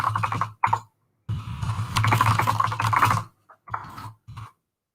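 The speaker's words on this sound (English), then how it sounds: "I do apologize about the very noisy keyboard." A very noisy computer keyboard being typed on in quick clattering bursts, separated by short silent pauses, close to the microphone.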